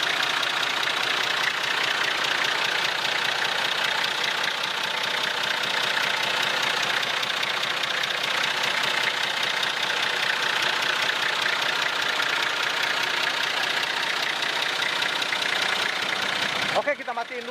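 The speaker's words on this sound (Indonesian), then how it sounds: "dengerin aja ya suara merdunya mesin dieselnya Nissan Patrol" Nissan Patrol diesel engine idling steadily and loudly close by, a continuous dense rumble with a knocking texture that holds for the whole stretch before cutting off abruptly at the end.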